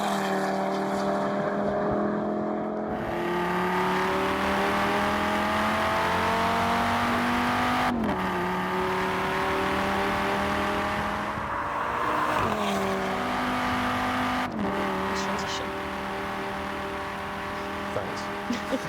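An Audi in Forza Horizon 4 holds a loud, steady engine note that sweeps upward through the revs, dropping at gear changes roughly three times, with a voice talking over it.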